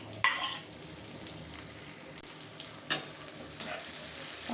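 Sliced tomato goes into a pan of lightly fried onion and fries with a quiet, continuous sizzle, broken by a couple of sharp stirring clinks. Nobody speaks.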